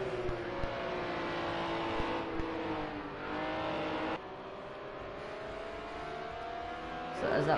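Engines of pro league race cars circling a track in a final-round race drone steadily at high pitch, rising and falling slightly as cars pass, with a louder surge at the end.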